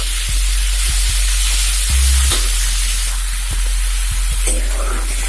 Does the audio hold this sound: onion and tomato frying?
yes